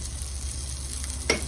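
Steak sizzles steadily in an oiled pan, seasoned with salt, making a soft, even frying hiss throughout. Near the end there is one brief clink.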